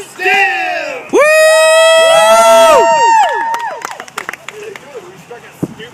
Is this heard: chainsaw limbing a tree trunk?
no